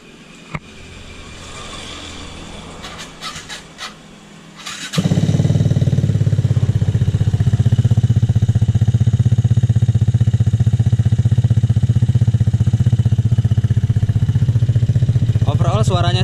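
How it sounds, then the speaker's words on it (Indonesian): After a few clicks and voices, a 195cc Vespa scooter engine starts and runs loud and close, a deep steady throbbing idle that fills the rest of the clip. "habis ini kita dengerin suaranya mesin 195 plus cc ini"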